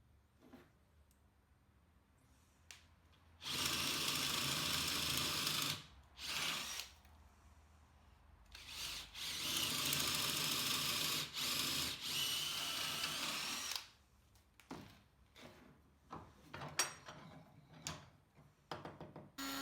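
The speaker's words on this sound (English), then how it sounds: "drilled a 16mm hole into the centre of the handle" A power drill bores a 16mm hole into a wooden handle in two long, loud whirring runs with brief pauses, followed by scattered clicks and handling knocks.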